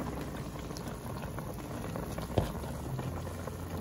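Mutton tripe soup bubbling in a pot, a faint steady simmer of low popping and gurgling with one small knock midway, no voices.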